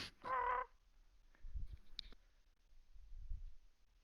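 A human voice imitates a small dragon's excited chirping with a bright, loud burst of chirps at the start, followed by softer clicks and low rustling handling noises.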